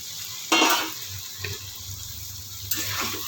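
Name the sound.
fried pointed gourd (potol) added to spice paste in pan, sizzling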